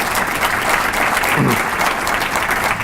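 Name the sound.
audience applause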